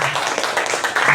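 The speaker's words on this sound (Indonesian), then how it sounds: "Tepuk tangan buat kita semua" A group of teachers at an academic supervision coaching session applauds, a short dense burst of clapping from many hands lasting about a second, close and fairly loud.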